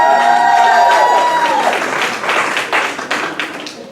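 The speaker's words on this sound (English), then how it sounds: "she came with the cheering section." Applause and cheering from a family supporters' section at a Newburgh school board meeting, a loud burst of clapping and whoops that gradually thins out over a few seconds.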